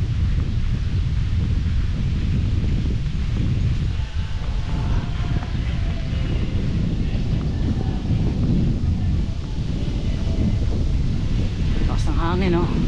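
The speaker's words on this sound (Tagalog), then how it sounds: "Lakas ng hangin, no?" Strong wind gusting and blasting against the microphone outdoors in New Zealand, constant low roar for the whole stretch, with a brief chirp near the end.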